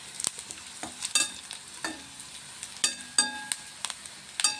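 Sharp crackles and pops from curry leaves hitting hot oil in a pan, in irregular bursts over a soft sizzle, close up.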